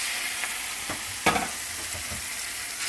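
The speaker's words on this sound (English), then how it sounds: "I'm going to stir this up." Ramen stirred in a pan with melted butter, a steady frying sizzle running throughout with a few soft scraping strokes of the utensil and one sharper clack near the middle.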